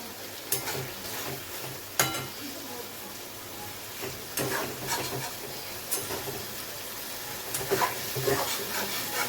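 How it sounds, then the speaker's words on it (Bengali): Spice paste (masala) stirring and frying in oil in a pan for a light Bengali ridge gourd and katla fish curry, a steady soft sizzle broken by intermittent scraping spoon strokes, close and moderately quiet, with no talk. "মশলাটা যাতে না লেগে যায় এই জন্য একটু কষাতে থাকবে।"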